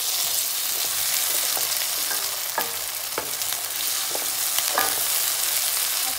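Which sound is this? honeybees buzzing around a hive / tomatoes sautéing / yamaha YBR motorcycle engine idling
tomatoes sautéing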